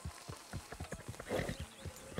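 A horse in Red Dead Redemption 2 steps in to be hitched, its hooves clip-clopping in a steady, close rhythm with a brief louder scuffle partway through.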